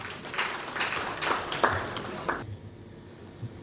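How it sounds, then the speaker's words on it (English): Scattered clapping from a small audience, a dense patter that stops abruptly, leaving quiet room tone. "Shall we welcome him with a round of applause, please?"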